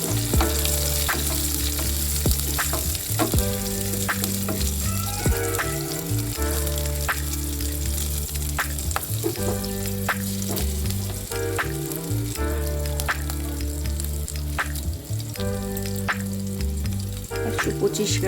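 Green chilli and ginger fry in hot oil in a pan with a loud, constant sizzle, punctuated by frequent sharp stirring taps, while steady tonal music plays underneath.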